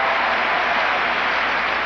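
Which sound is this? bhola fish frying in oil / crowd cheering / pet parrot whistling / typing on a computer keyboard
crowd cheering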